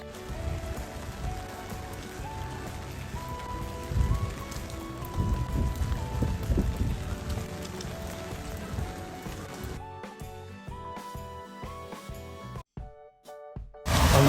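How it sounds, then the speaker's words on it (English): Rain falls outdoors on a street in Tours, France, while someone walks home. A steady hiss of drops sits under background music, which thins out near the end. "On my final descent home, braving the rain"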